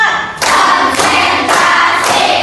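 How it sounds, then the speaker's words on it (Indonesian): A class of students claps hands together in a counted rhythm, producing loud, evenly spaced bursts of many hands striking at once, close and reverberant. "Sebelumnya, ayo kita tepuk-tepuk dulu."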